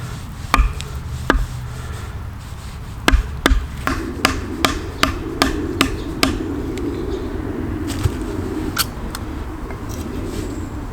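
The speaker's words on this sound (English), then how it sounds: "Now we take our knife and we batten through." A knife driven through timber with a wooden baton while carving a cooking pot hanger: a series of sharp, close knocks in an uneven rhythm, some coming in quick runs, over a quiet background.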